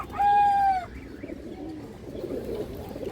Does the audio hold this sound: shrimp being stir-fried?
no